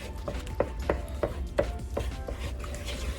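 A hair treatment is mixed in a bowl, giving a series of sharp, regular taps and scrapes, about one every third of a second, close and fairly quiet with no voices.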